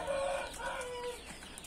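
Chickens cluck close by in a steady, continuous run of short, throaty calls with no talking.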